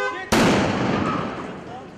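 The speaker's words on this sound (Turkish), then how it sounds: "Patlamayla birlikte çanta paramparça oldu." A bomb squad's controlled explosion destroys a suspicious bag on a Beyoğlu street: one sharp, loud blast that cuts in abruptly and decays into a long rumbling, crackling tail.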